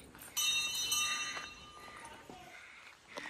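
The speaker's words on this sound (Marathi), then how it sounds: "इथे एक मस्त घंटा आहे" A temple bell rings at a Bhargavram shrine, one bright metallic strike with a long ringing tail, followed by fainter clangs and a later tap, heard at moderate distance while people talk softly nearby.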